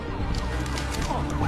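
A fire truck siren wails at middling distance in a city street scene, its rising and falling tone mixed with traffic noise, with no clear talk.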